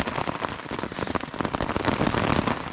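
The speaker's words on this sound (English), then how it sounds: "Didn't stop to rain yet." Rain patters steadily on a tent during a wet, cold trek in North Cyprus, a dense, close rattle of drops striking the fabric with no voices.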